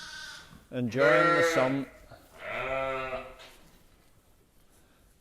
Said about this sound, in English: So it's very noisy inside, a lot of little lambs here, all lying round,